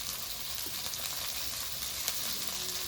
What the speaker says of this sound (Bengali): ক্যাপসিকাম পেঁয়াজ আর কাঁচা লঙ্কা কুচিটা একটু ভেজে নেবো